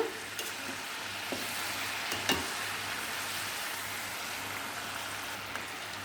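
Gooseberries frying in oil for a pickle hiss with a steady, even sizzle and gentle bubbling, close and quiet, with a couple of faint clinks from stirring.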